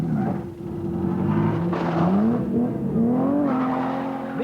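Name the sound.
rally car driving fast on gravel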